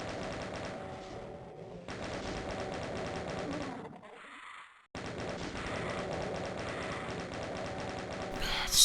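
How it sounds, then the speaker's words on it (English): A chain gun fires in Doom II on the Sunder map, a steady rapid rattle of shots that stops briefly midway, then resumes at full pace. "It's rare that you get to use the chain gun in Sunder."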